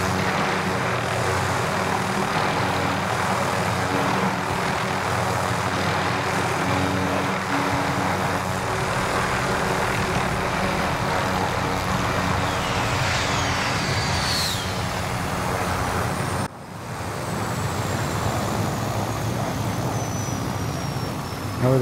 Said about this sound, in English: So much noise from the chopper, I can't fucking hear anyone talk